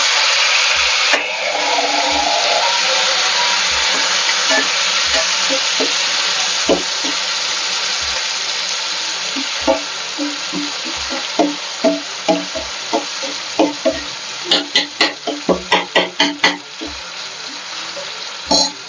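Chopped tomatoes with salt frying in a pan for a homemade kadai chicken, a continuous loud sizzle with sharp repeated clicks of a spoon stirring against the pan, growing denser toward the end.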